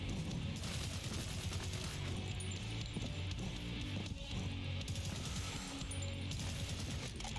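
Rapid gunfire in the first-person shooter video game Prodeus, a dense continuous burst of shots layered over loud game music and effects, steady throughout with no pauses.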